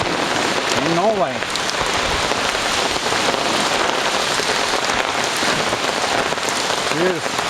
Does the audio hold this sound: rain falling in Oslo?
yes